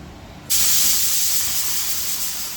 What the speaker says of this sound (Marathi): शिट्ट्या होत आहेत कुकरच्या 3 झाल्या आहेत.